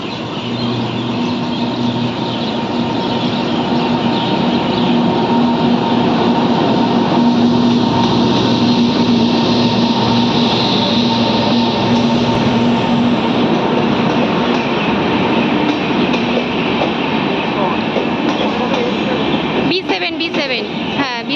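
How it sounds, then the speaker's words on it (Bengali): A long New NJP passenger train pulls into Ranaghat station with a steady, loud rumble of wheels and engine noise. Platform crowd chatter runs underneath throughout, and a sharp burst of rattling clanks breaks in near the end. "ওই যে ট্রেন আসছে"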